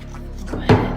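A paper cup gets pressed down onto cardboard in one soft, dull thunk near the end of a brief moment with faint talking.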